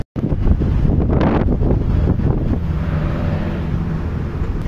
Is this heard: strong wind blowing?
yes